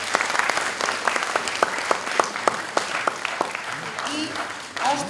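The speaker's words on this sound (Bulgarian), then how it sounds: "Аплодисменти за нашето жури." An audience at a festival claps for the jury, a dense stretch of applause with distinct sharp claps standing out, then a brief voice near the end.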